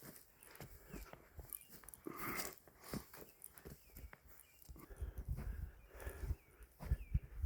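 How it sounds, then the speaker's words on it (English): A dog moves about a farm field where potatoes are being planted, its soft padding footsteps and rustling coming close and faint with irregular rhythm, and no talking. "probably get my doggy out of here"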